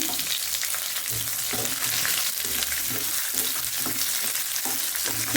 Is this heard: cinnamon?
yes